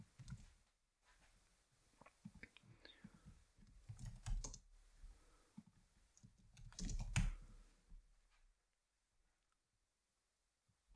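Typing on a computer keyboard, with bursts of quiet clicking keystrokes at an uneven pace that stop near the end, leaving near silence.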